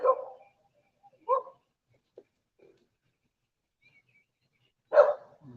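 A dog in a yard gives a few separate barks, some fairly close and sharp, with long quiet gaps between them.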